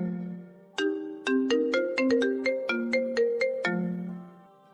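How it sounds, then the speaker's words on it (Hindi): A phone rings with a melodic ringtone, a bright run of about a dozen quick chiming notes between low sustained tones, loud and close with no voices. "तभी उसके बॉस का फोन आता है।"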